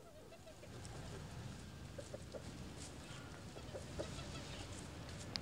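Chickens kept in Copenhagen's free city give faint, scattered clucks against a steady, hissy outdoor background.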